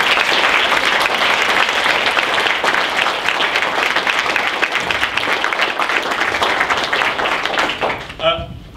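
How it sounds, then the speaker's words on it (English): Audience applause at a school soloists concert, loud sustained clapping from a crowd that fades near the end as a voice begins to speak. "Let's give them all a round of applause."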